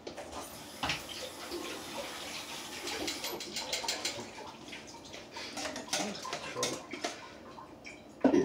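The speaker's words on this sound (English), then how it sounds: "And rinse off my tongs first." Water runs from a tap as cooking tongs are rinsed under it, a soft continuous splashing with small clinks and a sharper knock at the end, fairly faint and close.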